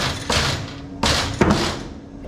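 A vacuum-formed plastic part is knocked loose from its mold, giving three dull thumps about half a second apart over a steady machine hum, fairly close and moderately loud.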